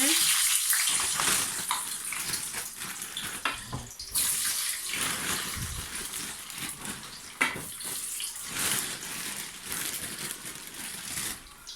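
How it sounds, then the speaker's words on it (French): Fries dropped into hot oil for homemade French tacos give a steady, dense broadband sizzle and crackle throughout, with a brief louder surge partway through, close and fairly loud with no talk over it. "Et là, c'est notre frite. On va le mettre dans l'huile."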